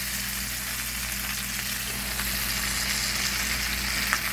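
Chicken drumsticks fry in hot corn oil with a steady, close crackling sizzle that holds even throughout, with a few sharper pops standing out and no talking.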